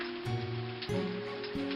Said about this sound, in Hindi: इतने में ऊपर से जोर से बारिश होने लगती है।